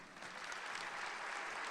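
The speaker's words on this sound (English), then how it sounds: "Please give a warm round of applause for Kevin Johnson." An evening awards event audience applauding for a teacher of the year ceremony, a steady wash of clapping from many hands heard at a moderate distance without any speech over it.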